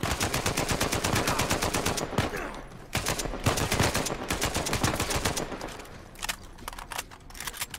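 AK rifle fire in Uncharted 4, rapid automatic bursts rattling loud and close in quick succession, broken by brief pauses and a few separate shots, with fighting going on all around.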